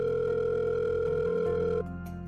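A steady electronic phone tone drones loudly for about two seconds over a continuous low hum, then cuts off abruptly, leaving the quieter hum.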